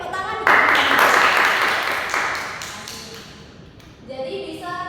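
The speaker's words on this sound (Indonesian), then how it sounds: "Ya, ayo tepuk tangan" A classroom of physics students claps together in a brief burst of applause lasting a few seconds, dense and close, tapering off before a voice resumes speaking.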